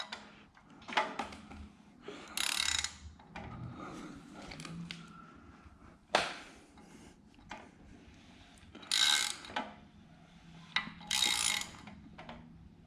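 An engine crankshaft is turned by hand against a piston stop while degreeing Skunk2 Pro 1 cams, giving scattered clicks, ratcheting and metallic rubs in short bursts with pauses between, fairly close.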